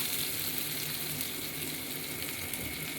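Chopped onions frying in a pan for a bottle gourd and prawn curry, a faint, even, continuous sizzle with a light hiss and no distinct stirring strokes.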